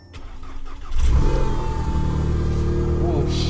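A broken German car's engine starts and settles into a loud, close, low exhaust rumble that holds steady, with a voice briefly audible.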